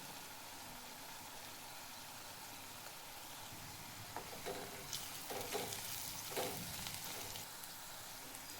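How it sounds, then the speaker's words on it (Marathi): Red chili powder and coriander powder roast in hot oil in a pan with onion, giving a low steady sizzle and a few louder bursts of stirring near the end, no voices. "लाल तिखट आणि धना पावडर भाजायची तेलामध्ये."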